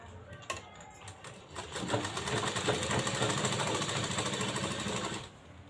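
A sewing machine runs in a continuous rapid chatter, stitching a cross-marked seam on cloth for a blouse katori, moderately quiet and steady for about five seconds before slowing to a stop.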